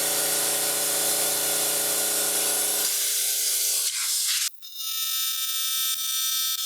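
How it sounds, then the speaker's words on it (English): Air hisses out from the gap between a small tube-type tire and its inner tube, a steady loud broadband rush that thins and drops away after a few seconds, followed by a fainter, higher hiss continuing on its own. "That air rushing out is the air in between the tube and the tire"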